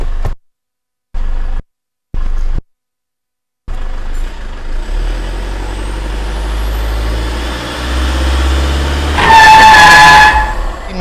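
A 2012 Toyota Fortuner G VNT turbo diesel with automatic transmission idles at the rear, then revs and settles into a steady low rumble that swells near the end. A few short bursts of noise come first.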